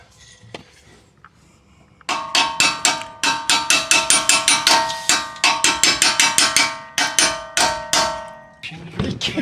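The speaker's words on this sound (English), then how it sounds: "We're gonna have to hammer that out." Rapid, loud metallic hammer strikes on a shock absorber part of a 1999 Ford Mustang GT, a steady run of sharp ringing blows close by after a quiet start.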